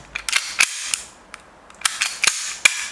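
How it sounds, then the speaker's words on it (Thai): Steel slide of a Chinese-made BB gun pistol slamming, a series of sharp metallic clacks and snaps in irregular bursts, close and crisp with near-silent gaps between them. "ฟังจากเสียงนะครับ สไลด์กระแทกนะครับ"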